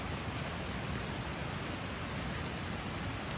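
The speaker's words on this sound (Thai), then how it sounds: "ฝนตก ต้องหาที่หลบฝนนะครับ" Steady rain pouring down outdoors in the Mae Chaem hills of Thailand, a dense, unbroken hiss filling the whole stretch with no voices.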